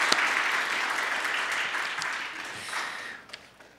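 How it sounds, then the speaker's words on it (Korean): A church congregation applauds the Sunday school teachers, the clapping dense and warm at first, then thinning and tapering off toward the end. "우리 교회 학교 모든 분들께 감사와 격려의 박수를 한번"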